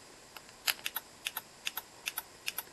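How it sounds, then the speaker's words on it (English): A small 5-volt relay on a simple electronic circuit clicks off and on repeatedly, sharp close-up ticks in pairs at a steady rhythm against a quiet background. "you can hear the relay clicking off and on"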